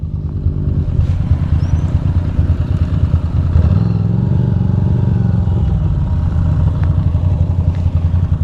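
Ducati Monster motorcycle riding off-road down a rocky dirt descent, its engine droning loud and steady throughout with clattering from the rough terrain and a brief swell in revs midway.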